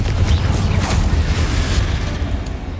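The Confringo blasting spell in Hogwarts Legacy detonates with a heavy booming blast and rumbling low end, followed by crackling debris that slowly fades over a few seconds.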